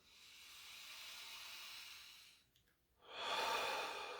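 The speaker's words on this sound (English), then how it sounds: "Deep breath, okay? Deep breath," A group breathing exercise in a meditation teaching session: a long, steady airy inhale swells and holds for over two seconds, a brief pause follows, then a louder, rushing exhale, close and alone with no talk.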